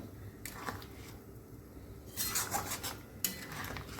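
Soft metallic clinks and scraping of a utensil against a pan as boiled egg and potato go into a Bengali mustard gravy, faint and intermittent with a few sharper taps, no voices.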